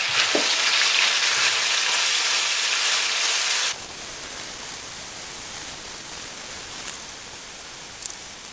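Tomato, ginger, garlic and green chili hit hot frying masala with a loud, dense sizzle that drops sharply after a few seconds to a softer steady crackle, with a small knock near the end.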